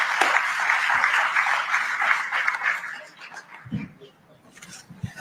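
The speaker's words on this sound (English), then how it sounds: "Can we have a warm round of applause, please?" Audience applause at a political conference, a dense burst of clapping from the hall that fades out after a few seconds, leaving scattered faint thumps and rustles.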